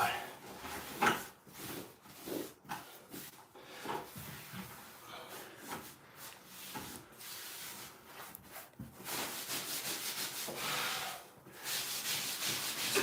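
Someone scrubs excess grout off tiled shower walls, giving repeated rough rubbing strokes that are close and fairly soft, broken by brief pauses.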